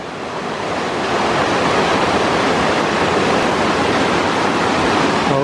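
A small creek rushes through a culvert beneath a road on Crown land, a loud, steady broadband roar of water with no voices.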